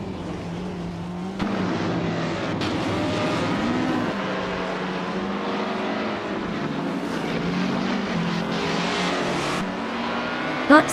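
A 1950 Talbot Lago T26C race car engine in a racing video game, a loud, continuous droning whine that rises and shifts in pitch as the car runs, with other engines layered in and a sharp click near the end.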